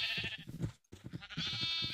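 Minecraft sheep bleat in loud, close, wavering calls, one bleat before a short silence and another after it, with no speech.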